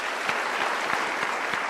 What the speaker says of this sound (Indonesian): Kita berikan dulu tepuk tangan untuk Pak Tony.